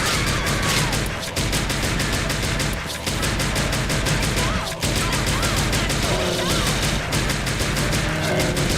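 Rapid gunfire blasts at a monster in a horror video game, a dense, loud fusillade of shots running almost continuously with brief gaps, backed by game sounds and faint voice traces.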